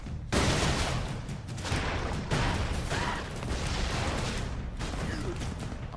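Loud, dense barrage of explosions and gunfire in the run-and-gun game Broforce, rumbling continuously with sharper bursts throughout and no clear talk over it.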